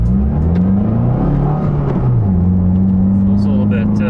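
A 2022 Subaru WRX pulls away in first gear, its engine droning low and rising in pitch as it accelerates from inside the cabin, while someone speaks briefly.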